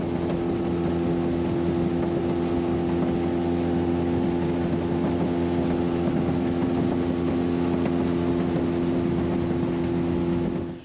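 A Honda outboard motor drives a boat at Shark Bay, a loud, steady engine drone holding an even pitch from start to finish with wash and wind underneath.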